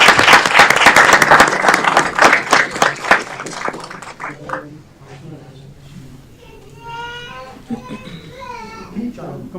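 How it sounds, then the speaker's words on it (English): Audience members at a city council meeting give loud, dense applause to guests from HSS Aurora. The clapping thins out after about four seconds into scattered claps, with people talking and children's voices heard. "Big round of applause for Hindu Swayam Savik Singh."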